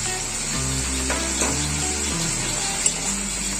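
Onion flower curry frying in a pan, giving a steady, close sizzle that runs unbroken through the clip with no talk.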